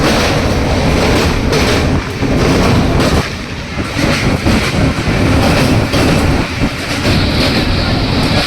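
A moving passenger train rumbles loud and near, with continuous clattering and rattling of the carriage and brief dips in the roar, heard from on board.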